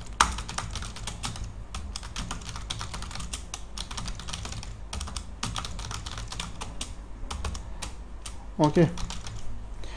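Someone types on a computer keyboard in quick irregular bursts of close, light key clacks, and a voice speaks briefly near the end.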